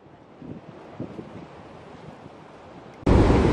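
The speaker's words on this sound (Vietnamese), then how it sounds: "Mưa nước biển nha, nó văng lên nha" Sea waves at Dinh Cậu, Phú Quốc, with a low, steady wash of surf and wind gusts, then a sudden loud splash that bursts up at close range and fills the last half second.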